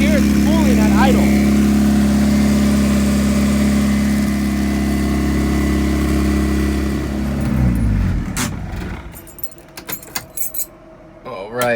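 A turbocharged Honda engine idles with a steady, close, loud hum and a whine as the turbo spools. After several seconds the drone falls away into clatter and jangling.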